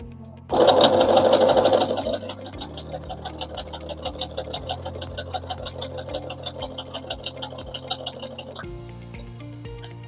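A sewing machine doing freehand machine embroidery runs with a fast, steady stitching rattle, louder at first then settling into a continuous close whir before stopping near the end.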